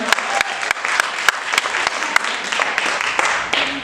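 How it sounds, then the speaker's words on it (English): Applause from an audience at a Baltimore event for LGBTQ coming-out stories, a dense, fairly close wash of clapping with a few sharp, distinct individual claps standing out. "Give Baltimore a round of applause."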